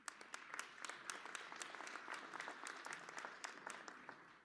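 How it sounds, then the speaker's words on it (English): Graduates at an autumn college commencement ceremony clap in a round of applause, a dense, steady patter of many hands heard somewhat distant and fairly quiet, with a few sharper individual claps standing out. "Give yourselves a round of applause."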